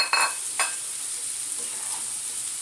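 Chopped tomatoes drop into a pan of sizzling bottle gourd, a couple of sharp splashy hits at the start followed by a soft, steady hiss of frying, close by and without voices.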